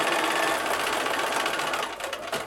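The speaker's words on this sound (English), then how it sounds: "I'm sewing this straight seam using the edge of" A sewing machine runs a straight seam through fabric for a free-form quilted greeting card, giving a steady, close mechanical whir that holds for a couple of seconds before easing slightly at the end.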